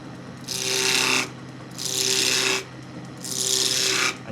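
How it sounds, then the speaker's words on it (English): A skew chisel slices into spinning wood while turning a pommel on a lathe, giving three close, rasping cuts of about a second each, separated by short pauses over a low motor hum. "It's that cut where I'm going to lift the handle and slice the tip forwards in an arcing motion. So I'm slicing into the wood."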